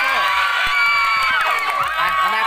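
Crowd of students cheering loudly at a Thai school's internal sports day, with overlapping shouts and chants under someone talking over a PA, sustained and dense throughout.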